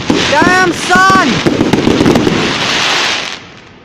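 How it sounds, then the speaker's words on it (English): Christmas pageant fireworks at the 2018 Strathalbyn pageant crackle and bang loudly in a steady outdoor barrage, while excited voices exclaim over the first half. "That was the fireworks for 2018 Strathalbyn pageant thingy."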